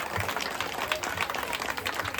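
Audience applause at a dance show during a street temple fair in Eluru, a steady dense wash of clapping that holds for the whole stretch with no break.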